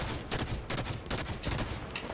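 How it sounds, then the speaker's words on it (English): Incineration cannon fired in Halo 5 Warzone, a burst of rapid crackling blasts and booms at moderate level, repeating in quick irregular pulses with no talk. "It's an incineration cannon"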